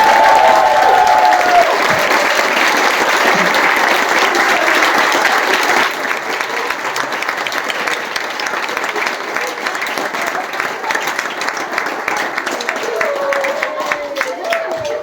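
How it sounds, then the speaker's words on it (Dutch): Big, dense applause from a theatre audience at an end-of-year show, loud and full for about six seconds, then easing to lighter, thinner clapping with some murmuring voices underneath. "een heel groot applaus voor deze collega's"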